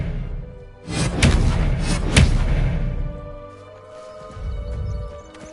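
An Incendio fire spell bursts out in Hogwarts Legacy, a loud whooshing blast with two heavy thuds over a second or so, then fading into a lower rumble and ambient game noise.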